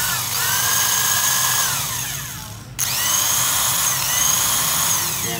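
Hitachi electric impact wrench running without load, a loud steady high whine that dips briefly as the trigger is released and then spins back up, close by with no talking.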